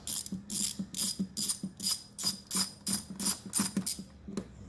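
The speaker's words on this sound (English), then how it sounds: "take your T30 and start over in this corner right here where the bolt is. Just take that one out." A T30 Torx ratchet removes a bolt under a C7 Corvette engine cover, giving a close, rhythmic run of about ten quick clicking bursts with short pauses, alone without talk.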